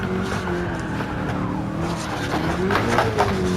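A D1 drift car sliding in Gran Turismo 7, its tires squealing and skidding over a loud, sustained engine drone that swells slightly toward the end.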